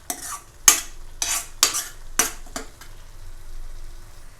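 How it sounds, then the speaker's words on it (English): Masala ingredients frying and being stirred in a kadai for Maharashtrian mutton sukka, with several sharp scraping strokes of a spatula against the metal over a faint sizzle, close up and without talk. "And we'll fry this for around 2 or 3 minutes,"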